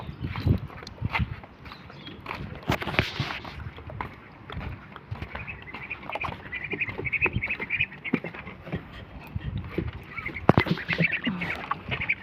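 Ducks kept on a home balcony in Egypt quack repeatedly in an irregular, overlapping chorus, close and fairly loud, with some shuffling and splashing around them.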